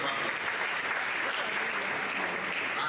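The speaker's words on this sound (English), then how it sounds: "Please let's give her a round of applause." Steady, dense applause from an audience at a Nigerian university forum on public university funding, greeting a newly introduced director; it stays even and full throughout with no speech over it.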